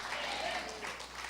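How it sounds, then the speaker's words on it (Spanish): A church congregation applauding during a Sunday morning service, a short, fairly distant wash of many hands clapping together, steady and soft. "Alguien aplaude al Señor en esta preciosa mañana."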